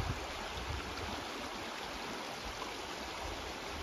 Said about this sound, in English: That's really pretty quick moving water.